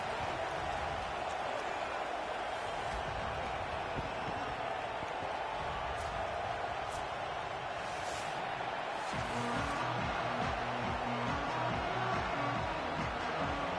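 Stadium crowd noise in a college football video game, Texas against Alabama: a steady dense roar of spectators fills the whole stretch, with a rhythmic band or chant pulse joining in the latter part.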